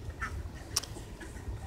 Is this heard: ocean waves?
no